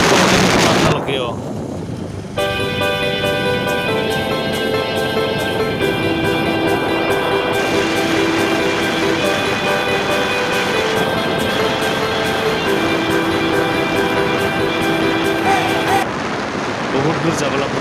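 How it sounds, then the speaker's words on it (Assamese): A motorcycle engine drones at a steady speed while riding, its tone holding even beneath a continuous rush of wind noise for most of the stretch. "সেইকাৰণে আমাৰ বাইকৰ চাউণ্ডটো শুনি থাকিব আপোনালোকেও।"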